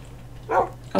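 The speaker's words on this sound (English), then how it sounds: "Oh, dog!" In the video game Minecraft, a dog gives two short, sharp barks, close and loud, over a steady low background hum.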